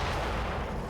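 A tank cannon fires in a Combat Mission war game, a dense, loud booming roar filling the short stretch with rumbling low end and no pause.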